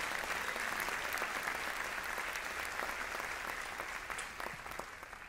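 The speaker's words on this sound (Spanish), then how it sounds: "Denle un aplauso a Dios" A church congregation claps together in dense, steady applause that fills the room and then slowly thins and softens toward the end, with no speech over it.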